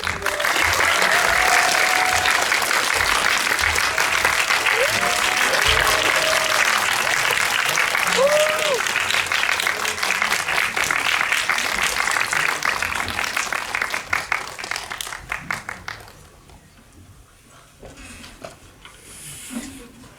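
Audience at a film screening Q&A gives loud sustained applause to welcome the guests, clapping steadily for about twelve seconds before thinning out and fading to scattered claps and quiet.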